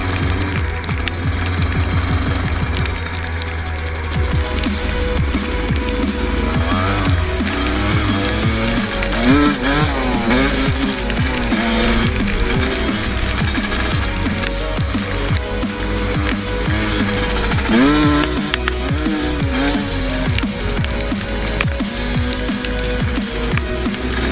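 Dirt bike engine revving and rising in pitch over and over during wheelie practice on a trail, loud and close throughout with no talking.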